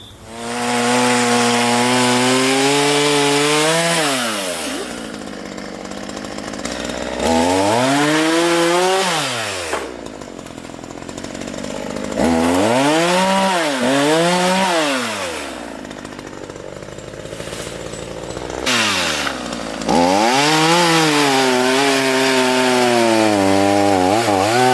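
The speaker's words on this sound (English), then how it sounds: "I'm going to try this thing out with the chainsaw and maybe tell you how good I like this Ryobi chainsaw" Ryobi chainsaw cutting tree limbs, its engine loud and close, revving up and dropping back in four long bursts with brief idle dips between cuts.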